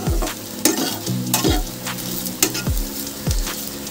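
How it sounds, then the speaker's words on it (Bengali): Soybean chunks lightly frying in a pan, a loud close sizzle with repeated rhythmic scrapes and knocks of a spatula stirring roughly every second, without talk. "হালকা করে ফ্রাই করে নেব।"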